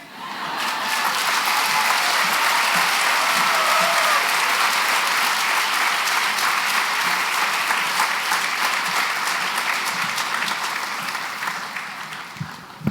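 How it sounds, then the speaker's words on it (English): A large audience applauds at a medical school white coat ceremony, sustained dense clapping that swells quickly, holds steady for several seconds and tapers near the end. "One more big round of applause for the class of 2027."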